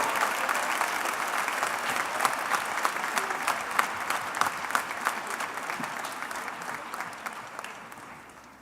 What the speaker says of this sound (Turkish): Onlara bir kocaman alkışla